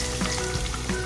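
Tomatoes and onions frying in a pan for stuffed cabbage, with a dense, continuous close sizzle and faint stirring scrapes over about a second.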